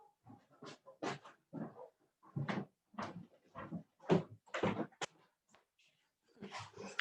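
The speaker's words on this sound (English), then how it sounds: "I hope they don't continue barking" Several short, sharp dog barks come in a rapid irregular burst, fairly close, with brief quiet gaps between them.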